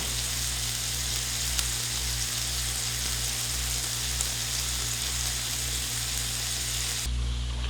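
Pieces of Bihari boti fry in a pan over a low flame, giving a steady, dense sizzle close by from start to finish, with a low hum running underneath.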